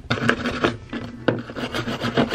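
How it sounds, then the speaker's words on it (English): A wire brush scrubs handmade silver jewelry in repeated rasping strokes, with sharp scratchy bursts at an uneven rhythm, close and moderately loud with no talking. "Now I'm gonna take a wire brush and just really get in there."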